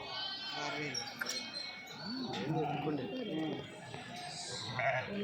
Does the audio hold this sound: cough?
no